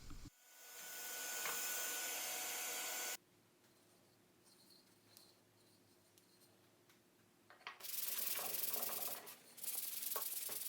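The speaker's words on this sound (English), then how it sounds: "After hand sanding to final grit" Hand sanding a wooden mallet with sandpaper, a loud continuous hiss of abrasive rubbing in two long strokes separated by a quieter pause, close up with no speech.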